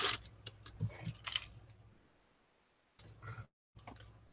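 Scissors snip through paper ephemera for crafting embellishments, giving a quick cluster of close, crisp cuts, then a pause and a few more snips.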